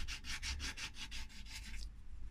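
Emery cloth rubbed rhythmically over a Galileo "Galidora" watch case by Valdora, a steady run of about nine quick abrasive strokes, close and fairly quiet, with no voices.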